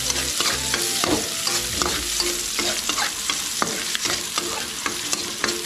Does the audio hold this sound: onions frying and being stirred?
yes